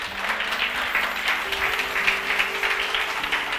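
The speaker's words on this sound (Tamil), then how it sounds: "கைத்தட்டுங்க." Congregation applauding during a Tamil church sermon, a steady wash of many hands clapping at close range, with a faint sustained tone underneath throughout.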